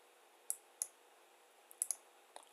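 Several sharp mouse clicks while working in Fusion CAD software, quiet and close, in pairs and singles spaced across a couple of seconds against faint room hiss.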